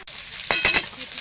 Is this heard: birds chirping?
no